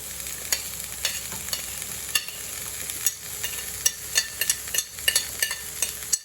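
Onions and garlic frying in extra virgin olive oil in a pan, with a constant sizzle and irregular scraping and stirring clicks throughout.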